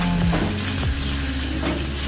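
Chicken pieces cooking in a pan with sweet soy sauce and butter give a steady, close sizzle throughout, with a few brief stirring scrapes and no voices.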